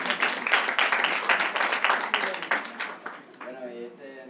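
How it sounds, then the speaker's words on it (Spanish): Audience applause at a student physics workshop presentation, a burst of clapping from a room for about three seconds before fading into background voices. "Es una fuerte aplauso para él,"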